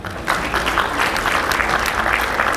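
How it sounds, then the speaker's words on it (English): Audience applause at an Efik National Association convention in Houston, a dense, steady wash of clapping that swells in quickly and holds loud and even for the short span. "A round of applause again for her."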